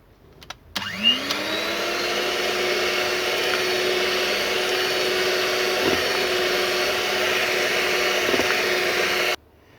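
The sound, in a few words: electric mixer mixing mango ice cream mixture at medium power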